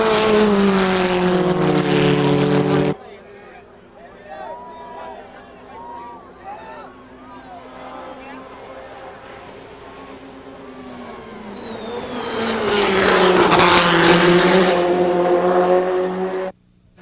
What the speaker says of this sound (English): Cameron eased up to Balmer's tail to challenge for the lead, and 7 seconds back, Berg began to duel Cozzolino for 3rd